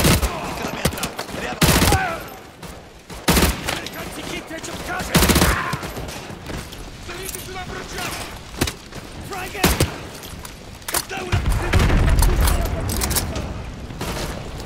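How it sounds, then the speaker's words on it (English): Modern Warfare 2 Remastered combat with an RPG launch, explosive booms and bursts of rapid gunfire, loud and dense across the whole stretch, with bits of voice mixed in. "Somebody's shooting an RPG."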